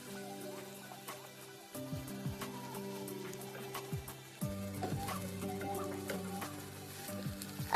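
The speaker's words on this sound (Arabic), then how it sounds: "نحمر البصل يبي له تقريبا دقيقتين إلى ثلاث دقائق لحد ما يتحمر البصل" Onions sizzle and fry steadily in a hot pan during stuffing preparation, a continuous crackling hiss with scattered pops that grows slightly busier midway, close and alone with no talk.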